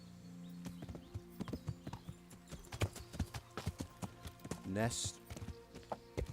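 Horse hooves clip-clopping at a steady walking rhythm in the medieval game Kingdom Come: Deliverance, with a brief horse whinny partway through and someone speaking over the top.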